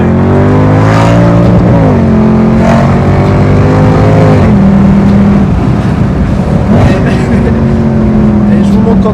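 A 535 hp Mercedes C63 AMG W204 drives with a loud, deep V8 roar, revving and shifting through gears with rising and falling pitch, heard from inside the car under faint background voices.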